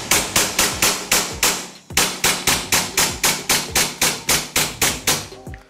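An AW Custom HX2003 airsoft pistol fires a rapid string of around twenty sharp, loud cracks in a steady rhythm, with a brief pause partway through before the shots resume.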